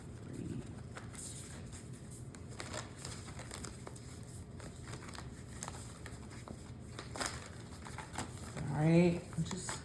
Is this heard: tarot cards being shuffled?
yes